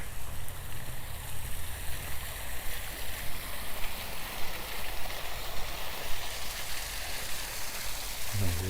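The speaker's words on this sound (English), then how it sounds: "It just flows out of the waterfall pond down here" Steady rushing water fills the scene in a Regina park, a broad continuous wash like a waterfall and its pond feeding a flowing creek, with no voices present.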